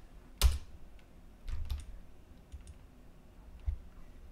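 Computer mouse clicks at a desk while working in Rhino 3D software: a few faint, scattered clicks over quiet room tone, with no talking.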